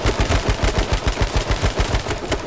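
Rapid automatic gunfire in the battle-royale game H1Z1, a loud run of evenly spaced bursts firing steadily through the whole stretch with no talk over it.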